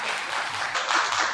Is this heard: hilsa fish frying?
no